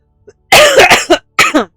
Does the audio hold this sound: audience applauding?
no